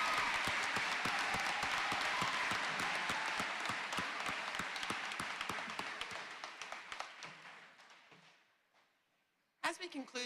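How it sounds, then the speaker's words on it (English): Sustained loud applause from a large audience at a master's commencement ceremony, dense clapping that gradually fades out over several seconds, followed by a brief burst of noise near the end. "one more huge round of applause for our graduates."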